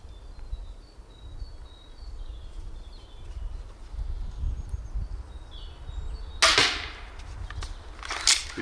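A repeating crossbow with a five-shot magazine and 130-pound draw weight looses bolts, giving two sharp, fairly close snapping releases near the end over quiet outdoor ambience with faint birdsong.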